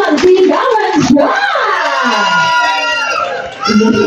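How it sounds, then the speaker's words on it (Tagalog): A crowd at a 75th birthday celebration cheers and screams loudly in a dense, continuous roar of many voices that dips briefly near the end before surging again. "maaari po ba ako makarinig po muna mula po sa inyong lahat ng isang malakas na palakpakan na may kasamang sigawan dyan"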